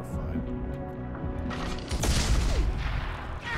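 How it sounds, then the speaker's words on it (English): Explosions and gunfire in the Mass Effect 2 video game: a steady rumble of combat gives way to a loud, dense burst of booming blasts and crackle near the end, with a voice briefly exclaiming over it. "giant fucking explosions don't go around corners"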